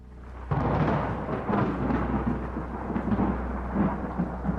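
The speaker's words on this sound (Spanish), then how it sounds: "el sonido de la tormenta que se acercaba se oía a lo lejos." Low rumbling thunder from an approaching storm rolls in after a quiet start, a steady, heavy wash that swells and lingers at a distance, with no voices.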